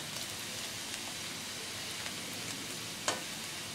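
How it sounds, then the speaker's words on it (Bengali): Masoor dal hits hot oil in a Bengali home kitchen, giving a steady, close sizzle with fine crackling pops throughout and one brief sharper spit. No voices are heard. "এরপরে যে ডালটুকু ছিল এই ডালটুকু আমরা কী করবো, ওর মধ্যে ঢেলে দেবো।"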